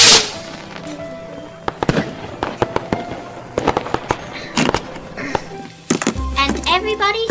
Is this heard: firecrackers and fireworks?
yes